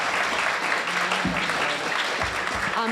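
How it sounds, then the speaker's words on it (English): Dense, steady applause from a conference audience for a panel fills the whole stretch, with a few low thumps and a voice faintly underneath. "another round of applause for our panelists here"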